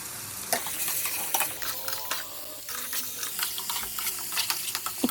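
Kashmiri chili powder, salt and turmeric being sautéed in a pan: busy sizzling and frying under repeated scraping, stirring strokes of a spoon, close and fairly loud, with no talking.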